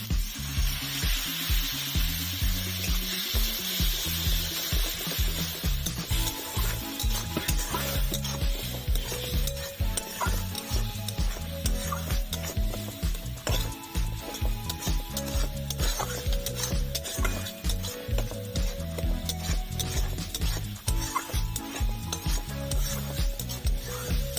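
Spice paste of Kashmiri red chilli, chilli, turmeric, coriander and cumin powders frying with a little water, stirred continuously in a pan, a close, steady sizzle with rhythmic scraping strokes of the spoon against the metal throughout.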